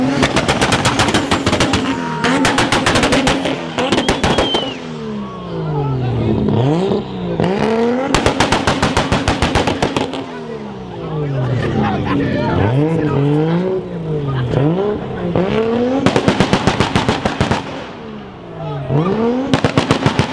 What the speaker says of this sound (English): we got a loud ass McLaren that's about to leave.